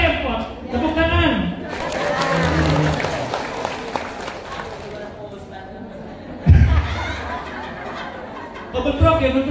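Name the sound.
audience applause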